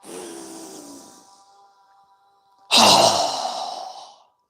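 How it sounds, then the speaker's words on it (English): A strong exhale during a yoga breathing exercise: a soft breath fades out, then after a pause a loud, forceful rush of air bursts out and trails off over about two seconds. "Strong exhale."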